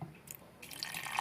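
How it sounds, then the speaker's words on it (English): Water splashes into sweet chilli sauce made with white sugar, a quiet pour with soft drips and a brief trickle, heard alone. "just a splash of water as well"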